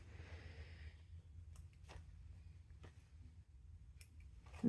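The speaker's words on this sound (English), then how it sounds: "let's do the corners. Make sure you don't cut into the stitching." Scissors snipping fabric at the corners of a small zippered ID wallet, several quiet, scattered cuts over low background hum.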